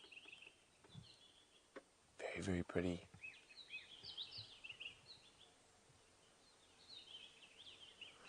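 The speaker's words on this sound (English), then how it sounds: "listen to the bird calls around us" Wild birds chirp and call around the edge of the Mohati River in the bush, with faint scattered calls through the clip and a brief burst of louder nearby sound; a person speaks briefly.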